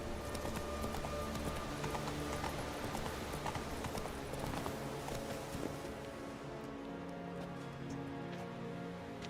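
Video game horse Roach from The Witcher 3 galloping, rapid rhythmic hoofbeats thudding steadily and close over ambient game background, easing off near the end.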